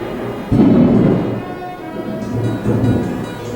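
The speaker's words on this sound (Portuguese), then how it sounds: "Vocês ouviram aí o trovão enquanto estou gravando aqui" Deep rumbles of thunder roll twice during winter rain in a rural garden, loud and low, the second swell quieter than the first, with steady rain hiss beneath.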